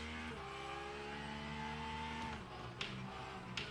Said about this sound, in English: You want to be able to hear that Porsche engine.